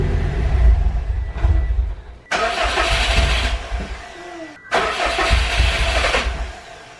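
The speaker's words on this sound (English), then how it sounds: "Crank her over." Subaru WRX engine cranking with its fuel pump disconnected, the starter churning in two long bursts separated by a short pause, loud and close with no voices.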